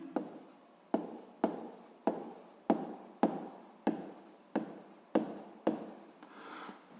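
A pen writes a physics formula by hand on paper, close and quiet, in about a dozen regular strokes roughly half a second apart, each a sharp scratch that fades away.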